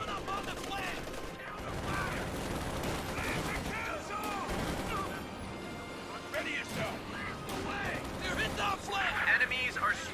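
Gunfire with a .50 cal machine gun in the World War II strategy game Company of Heroes 2, rattling bursts and scattered shots mixed with distant explosions beneath a commentator's continuous talk.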